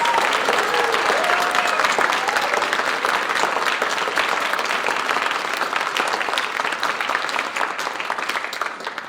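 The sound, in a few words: applause for graduates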